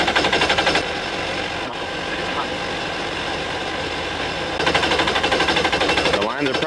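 A car engine cranks over and over without catching after its fuel had been shut off, a harsh rapid mechanical chatter that runs through the whole stretch with brief pauses.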